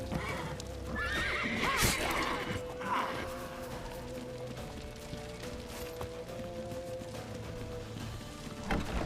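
Horse neighing and galloping hooves in The Witcher 3, with a loud whinny near the start and clip-clop running under busy game action and faint voices.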